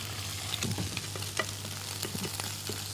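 Scrambled eggs for a mee sua soup cooking in a pan, a low continuous sizzle with light, irregular scrapes and taps of stirring throughout, soft and close.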